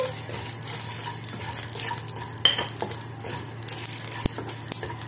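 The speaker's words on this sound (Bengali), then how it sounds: "এই মশলাটাকে আমি একটু ভেজে নেব" Whole spices dry roasted in a kadai: black pepper, coriander, cumin, cardamom, cinnamon and cloves. Soft rattling, scraping stirs and a faint light crackle sound close and quiet, with a couple of sharper knocks and no talking.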